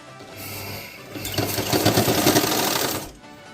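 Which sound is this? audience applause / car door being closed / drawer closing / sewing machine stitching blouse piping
sewing machine stitching blouse piping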